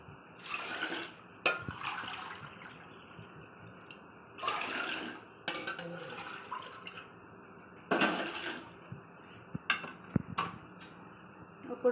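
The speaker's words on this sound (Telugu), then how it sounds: "తగినంత వాటర్ పోస్తున్నారు." Water is poured into a pot of marinated chicken in a series of splashy bursts of liquid with brief drips between them, close by and moderately loud.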